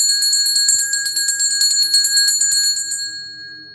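A bright metallic bell rung rapidly and repeatedly at close range, loud ringing strikes in a fast rhythm for about three seconds, then a clear ring fading out alone.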